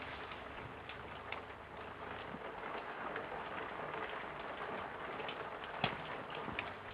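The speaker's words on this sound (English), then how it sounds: "It's only the rain." Rain falls as a steady broadband hiss with scattered irregular drips and taps standing out, moderately quiet and continuous, with no voices during the stretch.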